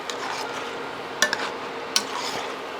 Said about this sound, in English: And let's stir this in.